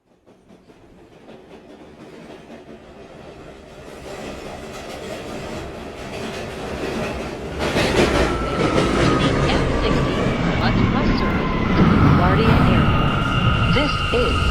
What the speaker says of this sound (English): Let's just wait for the D train.